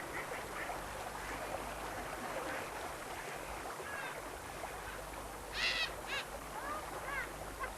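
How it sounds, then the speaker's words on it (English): Ducks and drakes in the English village of Downham quacking outdoors against a steady background hiss, with a few faint calls and a louder short burst of quacks partway through. "The ducks and drakes in the village of Downham know they're on to a good thing"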